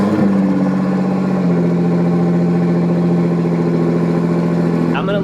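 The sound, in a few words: Nissan GTR engine starting and idling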